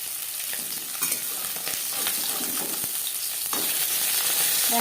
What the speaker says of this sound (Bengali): ভাজা হয়ে গেলে অপর সাইডটা উল্টে দেবো।